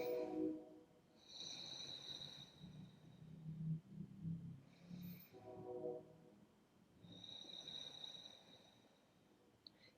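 Ujjayi pranayama breathing, the throat gently constricted, gives a slow, soft, raspy rush of inhaled and exhaled air that rises and falls in long cycles, close up and quiet, with no talking.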